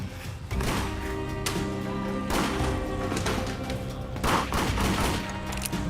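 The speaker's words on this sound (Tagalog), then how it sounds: "Kunwari, nagta-target shooting po ako." Toy gun target shooting, a dense, continuous rattle of rapid pops and thuds with a few heavier bursts, loud and close, no talking over it.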